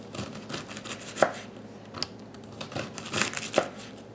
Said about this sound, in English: Okay, I've almost got this cabbage cut up.